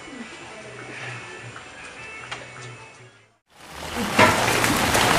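Steady rain falls outdoors near a roadside food stall, a dense broadband patter that drops out briefly midway, then returns louder and closer with a few heavier splashes.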